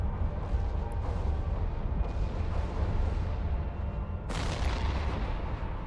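A spaceship in EVE Online is struck by projectiles and blows up, a continuous heavy rumbling roar of fire and blasts with a sharp, louder explosive burst near the end.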